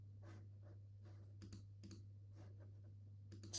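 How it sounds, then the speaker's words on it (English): Computer keys click in a few soft, separate taps and short bursts against a steady low hum, quiet and close, with no talking. "I'm going to press M on the keyboard"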